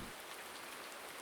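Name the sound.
rain in the video game Farming Simulator 19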